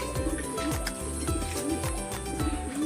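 Pigeons near a loft trap door cooing in repeated low throaty phrases, close and steady, over a constant background hum.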